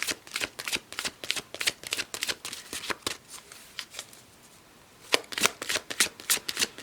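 Enchanted Map Oracle cards shuffled by hand in rapid crisp riffling bursts, close and clear, with a short pause before shuffling resumes.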